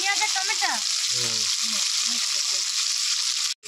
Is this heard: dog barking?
no